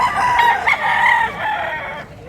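A running bullstag rooster at a poultry seller in Consolacion, Cebu crows loudly and close, one long, wavering cock-a-doodle-doo that fades out after about two seconds.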